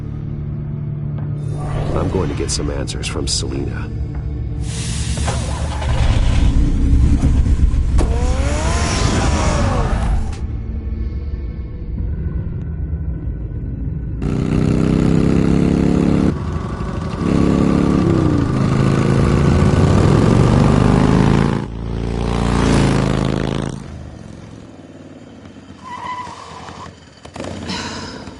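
Car engine rumbling in the Telltale Batman video game, with bursts of revving and idling that come and go under music and a voice talking.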